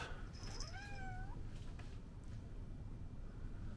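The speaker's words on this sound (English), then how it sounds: "And they have a cat." A cat meows in a tractor and auto museum, one short, rising and falling call near the start, faint against a low steady background hum.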